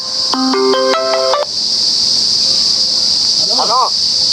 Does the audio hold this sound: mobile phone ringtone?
yes